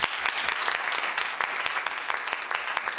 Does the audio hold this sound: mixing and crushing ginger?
no